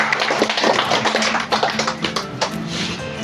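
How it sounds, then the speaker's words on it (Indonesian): Audience at a constituency recess meeting of a Sikka regency council member applauds for Christian Bhato Gama Putra, a dense crackle of hand claps with uneven peaks, fairly close, lasting a few seconds. "kita tepuk tangan untuk Bapak Christian"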